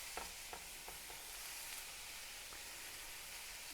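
Meatballs fry in a hot, oiled pan with a steady, quiet sizzle throughout, broken by a few soft taps near the start.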